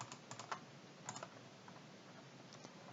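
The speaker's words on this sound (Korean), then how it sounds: "세 칸 잡고 또 잡을 거니까 키보드에 컨트롤 키 누르면 돼요." Computer keyboard keys are pressed during spreadsheet work in Excel, a quiet, close run of light irregular clicks in small bursts with pauses between them.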